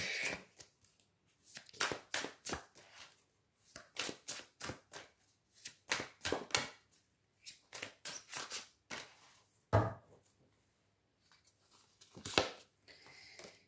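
Oracle cards from a fallen-angels deck shuffled and drawn by hand, a run of quick papery flicks and riffles in bursts with short pauses, close and fairly quiet, with no voice.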